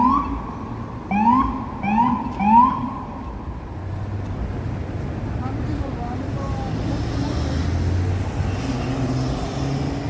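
Wailing police car siren cycles through several rising whoops early on, then fades into a steady roar of New York City traffic with distant engines and horns.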